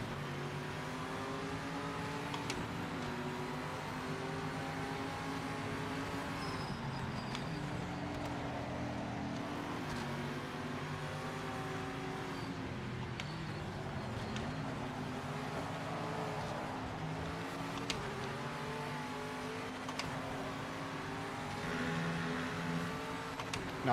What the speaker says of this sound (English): You can hear the V8s over our cars.